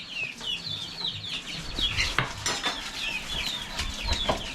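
A utensil scrapes and clinks as dewormer is stirred into feed for month-old chicks, the stirring sounds coming in short bursts while the chicks peep nearby.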